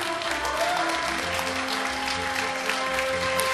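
Audience applause at a baseball defensive award ceremony, a dense, steady wash of clapping through the whole moment, with no speech over it.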